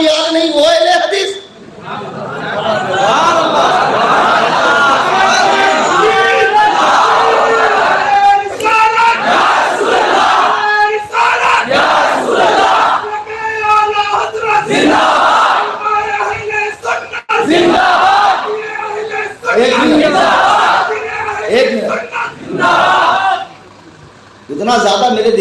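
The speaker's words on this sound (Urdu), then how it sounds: "نعرے کی ضرورت کے وقت ہی لگائے، زیادہ نعرے نہ" A large crowd chants and roars slogans in loud, rhythmic bursts at a religious gathering, voices surging together repeatedly with brief pauses between waves, close and dominant throughout.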